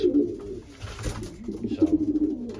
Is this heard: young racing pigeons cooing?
yes